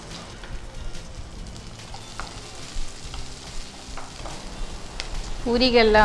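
Green chilies fry in a hot pan with garlic, giving a continuous close sizzle with light stirring. A louder burst of frying noise swells near the end.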